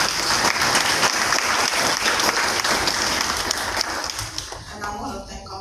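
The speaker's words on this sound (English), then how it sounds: "let's give a hand of applause to these three men" Dense, sustained audience applause at an award ceremony honoring three lifetime award recipients, loud and steady throughout before tapering slightly near the end.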